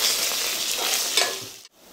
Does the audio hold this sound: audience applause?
no